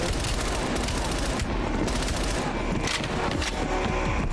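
Rapid bursts of automatic gunfire in Call of Duty: Black Ops Cold War fill the whole stretch, loud and dense, with overlapping shots and booms and no pauses.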